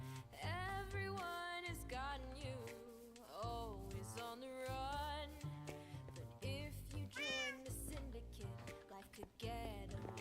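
A pet cat meows repeatedly in a room during a livestream, its calls rising and falling over dense, loud, continuous background sound.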